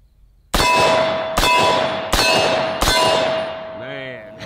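Four sharp metallic clangs ring out at a steady pace as 350 Legend bullets strike a steel target, each impact leaving a long, bright ringing tail that fades near the end.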